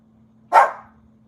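A dog, roused from sleep, gives a single sharp, close bark over a faint steady hum in an otherwise quiet room.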